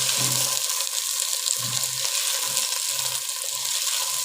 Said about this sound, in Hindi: अब मैंने 2 चम्मच ऑयल ली है और ये भिंडी हल्के से फ्राई करने लगी